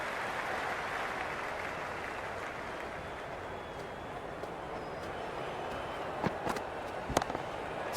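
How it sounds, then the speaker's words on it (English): A cricket stadium crowd in the Cricket 26 video game, India vs Ireland, roars in a steady, dense wash of cheering and noise, with a few sharp pops and claps near the end. "The crowd is electric right now."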